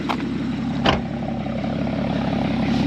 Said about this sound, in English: It is a very, very good sounding engine with that exhaust